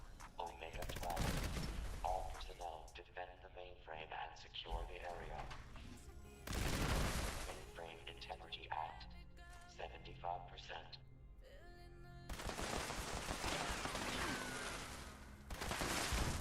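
Automated turrets firing in Fallout 76, rapid bursts of gunfire crackling through game music and effects, loud and busy with repeated volleys.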